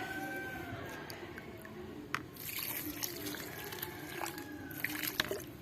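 Water pouring onto the soil around a garden plant's roots after a spoonful of solid fertilizer, a steady trickle and splash with a few drips, with a rooster faint in the background.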